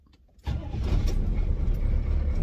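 After a short quiet moment, the diesel engine of a 1989 GMC Suburban 2500 4x4 cranks and rumbles to life after glow plug warm-up, then settles into a loud, steady, clattering idle close by.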